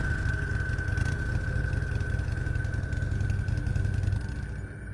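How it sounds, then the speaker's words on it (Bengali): A motorcycle engine sound effect from a Bangla horror cartoon hums as a steady, loud drone for about five seconds and eases slightly at the end. "বাইকটা নিয়ে বেরিয়ে পড়ল।"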